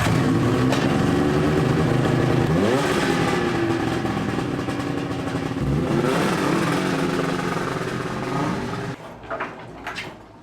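A cheap diesel engine bought on Amazon, meant for a motorcycle, fires on the first pull and runs with a loud, steady, rattly drone that rises in pitch a couple of times, then shuts off, leaving faint knocks near the end.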